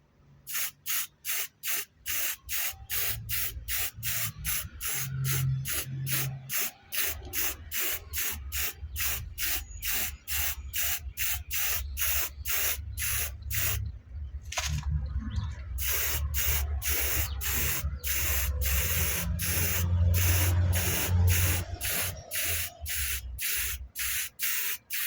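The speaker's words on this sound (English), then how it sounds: "Now let's get our favorite speed grey primer on." Repeated short bursts of grey primer spray paint hissing from a can onto a BMW E30 325i undercarriage, pulsing in a steady rhythm with brief pauses, close and loud, with no talking.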